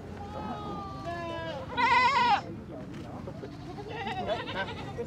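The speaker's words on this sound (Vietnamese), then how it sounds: "Đây con dê đực các bạn này, dê đực" A male goat with white and black markings bleats several times, wavering cries with one loud burst in the middle, while someone talks over and between the calls.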